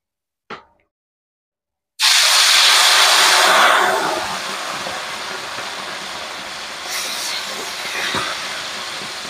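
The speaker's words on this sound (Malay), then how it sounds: "Jadi kita goreng ikan." A short click, then a sudden loud hiss and crackle of mackerel frying in hot oil that settles into a steady sizzle.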